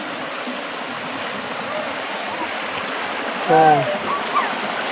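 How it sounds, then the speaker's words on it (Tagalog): A strong river current rushes in a constant broadband wash, close and steady throughout, with a brief exclamation from a voice near the end. "Lakas ng agos."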